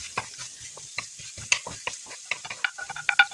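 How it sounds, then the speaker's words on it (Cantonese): Shredded radish, carrot and cucumber stir-fried in a hot wok with oil and ginger, giving a run of quick scraping clicks and light sizzling taps in an uneven rhythm, close and fairly quiet, with no voices. "炒三絲2分鐘"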